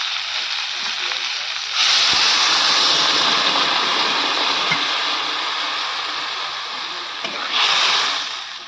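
Water gushes into a hot pan of frying fish and potatoes, making a loud, rushing hiss and sizzle that swells in two bursts and settles into a steady roar between them.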